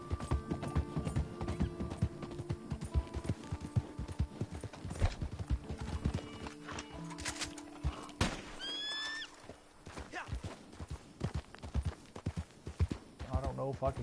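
Rhythmic horse hooves clop steadily throughout during a ride, with a horse whinnying partway and people talking over the riding.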